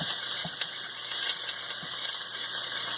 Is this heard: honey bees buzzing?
no